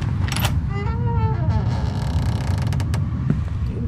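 A door creaks open in the horror game Silent Still, a drawn-out wavering groan of old hinges followed by clunking and rattling, loud and close with no talking.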